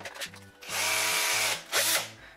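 A Makita cordless screwdriver converted to a Li-Ion battery whirs at its second speed in two loud bursts, revving up and holding a steady motor whine, then stopping briefly before spinning again.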